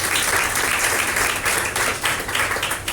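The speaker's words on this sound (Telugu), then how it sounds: "అలాగే శ్యామ బ్రదర్కి సందీప్ బ్రదర్ కూడా గట్టిగా చప్పట్లు కొట్టేస్తుంది" Church congregation at a Friday worship service clapping loudly and continuously in sustained applause that swells in a few waves, with no clear voices over it.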